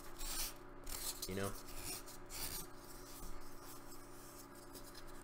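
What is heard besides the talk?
rasp filing on foam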